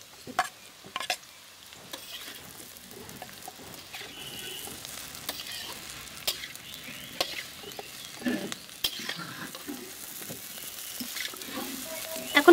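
Chow mein noodles stir-fried in a pan with chopped onion, capsicum and chilli, a low continuous sizzle punctuated by irregular scrapes and knocks of the spatula growing busier toward the end.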